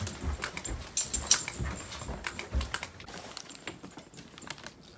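Dogs indoors make scattered short noises and whimpers among clicking, tapping sounds, in uneven bursts that fade toward the end.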